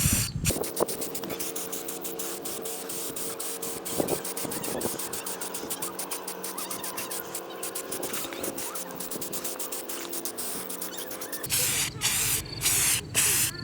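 Spray paint hisses steadily from an aerosol can onto a foam Halloween tombstone, a continuous close spray broken by short bursts and pauses toward the end, with no talking.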